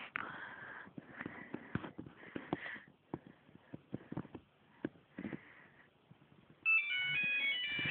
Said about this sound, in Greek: Εδώ είναι το τηλέφωνο και τώρα θα αρχίσει να χτυπάει